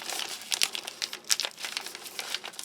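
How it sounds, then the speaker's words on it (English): A plastic ration pouch from a Norwegian army arctic field ration crinkles as it is folded over and sealed, giving close, brisk crackling bursts in an irregular rhythm with no talking. "Make sure that's sealed. Fold it over a couple of times"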